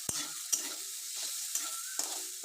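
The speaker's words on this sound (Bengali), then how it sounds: "মাশরুমটা ভেজে নিচ্ছি ভালো করে" Mushrooms frying in a pan in a home kitchen give a steady, close hiss of sizzling, broken by a few light scrapes and clinks of stirring.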